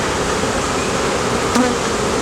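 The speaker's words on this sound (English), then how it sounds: "I know it looks like there's a lot of bees flying around and everything like that" Honey bees flying around a swarm hive during a swarm rescue, a steady close buzzing drone of many insects that holds evenly throughout with no voices.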